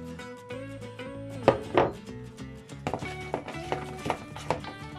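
A spoon taps and scrapes through a bowl of cottage cheese casserole mixture with raisins, giving uneven, close knocks over background music.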